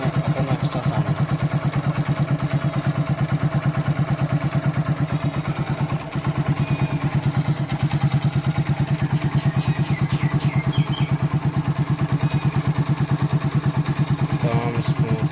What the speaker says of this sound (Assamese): এতিয়া নতুন মবিল সোমোৱাই ইয়াত ইঞ্জিনৰ মাতটো ইমান স্পীড